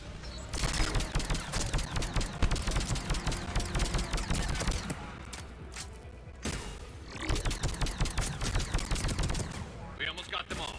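Rapid, sustained gunfire in the Mass Effect 3 video game, with dense bursts of automatic shots and a few brief pauses, loud and close over background game sound.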